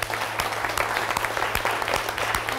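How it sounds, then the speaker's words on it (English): Audience applause at an event honouring a staff member, a steady patter of moderate claps from a medium-sized crowd lasting a few seconds, with a low steady hum underneath. "let's give her one more round of applause for incredible work."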